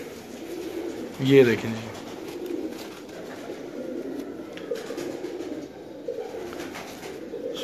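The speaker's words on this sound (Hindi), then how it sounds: "वो कबूतर ही थे" Pigeons coo in a loft in Gujranwala, one brief louder throaty coo near the start followed by faint murmuring calls, with someone talking quietly over them.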